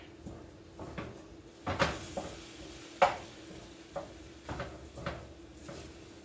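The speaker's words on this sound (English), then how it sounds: "So now I've got my turkey going over here in the pan" Soft, low sizzling of turkey in a cast iron pan with scattered stirring scrapes and clanks, the sharpest knock near the middle; no talk.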